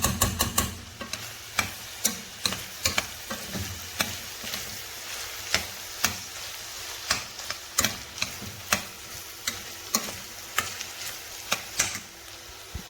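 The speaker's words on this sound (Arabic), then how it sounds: "نحطيله هاي البصل وهاي شوية ثوم زبدة" Onion, garlic and butter frying in a pan with chicken liver, a steady soft sizzle broken by repeated sharp ticks and scrapes of stirring, close and with no talk.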